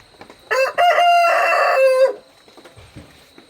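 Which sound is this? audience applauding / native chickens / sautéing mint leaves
native chickens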